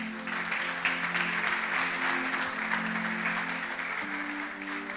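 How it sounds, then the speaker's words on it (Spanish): A church congregation claps together in a brisk, steady burst for about five seconds over a sustained musical tone in the background. "Póngase de pie y denle un fuerte aplauso al Señor."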